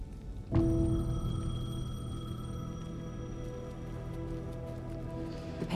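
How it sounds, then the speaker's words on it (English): A payphone in Alan Wake 2 starts ringing abruptly with a sharp metallic onset, its bright sustained tone ringing on steadily over a low ambient hum until the end. "The payphone was ringing."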